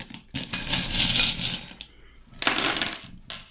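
Tarot charms scattered onto a table during a card reading, two bursts of bright metallic clinking and rattling like dropped coins, close and fairly loud, with a short pause between.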